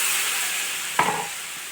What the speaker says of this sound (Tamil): இது நல்லா கொச்சிங்கன்னா மீன் போட்டு வதக்கலாம்.